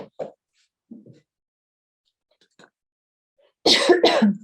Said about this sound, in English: I'm going to start to have a little coughing attack here